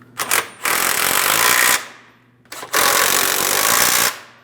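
Tool work on the control arm mounting nut of a 2005-2010 Chrysler 300 during front lower control arm replacement: two sustained loud bursts of buzzing, rattling power-tool noise with a short pause between, close by and free of talk.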